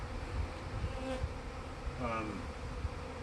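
Honey bees from a newly installed package buzz around their hive, a steady close-up drone with a few individual bees passing near.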